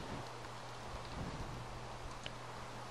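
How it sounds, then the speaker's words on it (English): Rain falling in the video game Minecraft, a steady, even hiss of dense rainfall at low level with no talk. "It rains!"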